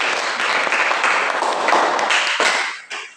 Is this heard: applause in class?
yes